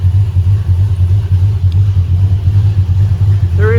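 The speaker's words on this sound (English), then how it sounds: "So here's your 360 running. Very healthy motor." A 1968 Dodge Dart's 360 V8 idling, a loud, steady, deep rumble that pulses evenly and stays close, with no talking.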